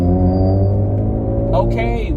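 A loud car engine rumbles nearby in traffic with a deep, steady low drone throughout and a brief higher revving rise near the end.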